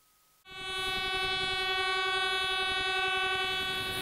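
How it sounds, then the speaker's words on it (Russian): A passing freight train hauling iron ore sounds a loud, sustained multi-tone horn that starts abruptly after a quiet moment and holds steady, while wheel clatter rumbles beneath it; no voices. "Гудок и стук колес проходящего поезда здесь слышатся ежедневно."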